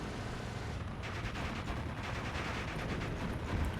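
Distant machine-gun fire in the Steel Division 2 World War II strategy game, a faint rapid rattle over constant battlefield rumble with no distinct loud shots.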